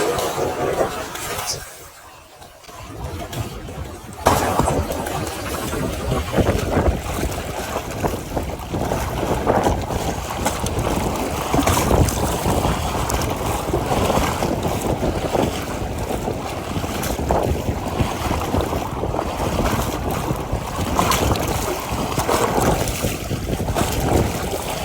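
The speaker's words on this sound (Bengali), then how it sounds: "সমুদ্রের পানির শব্দ আবার" Sea waves rolling in under strong gusting wind on a coast in Qatar, a loud continuous roar with heavy wind buffeting on the microphone and a voice talking at times.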